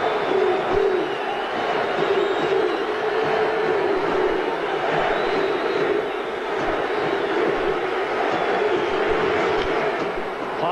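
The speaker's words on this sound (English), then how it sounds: "that chant of MVP goes up from the crowd here at the Coliseum" Large stadium crowd chanting MVP at a baseball playoff game at the Oakland Coliseum, a sustained rhythmic roar of many voices carrying through the ballpark, steady and loud.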